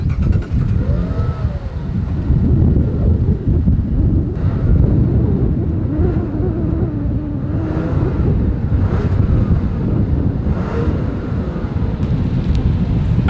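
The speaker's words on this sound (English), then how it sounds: "here is that exhaust clip" A 2025 Mazda CX-90 SUV's exhaust, a continuous low rumble with a brief rise in engine revs near the start, recorded close with some wind buffeting and no talk.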